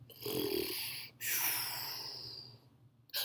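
A voice imitates the loud snoring of a little otter in a children's zoo-animal story, two long rasping snore breaths, the first shorter and the second drawn out, with a brief snort at the end.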